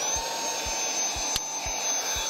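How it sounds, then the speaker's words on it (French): A handheld MECO vacuum cleaner runs without a nozzle inside a car, giving a steady close whine and rush of air with faint regular low thumps beneath it. "Donc, on va tester l'aspirateur."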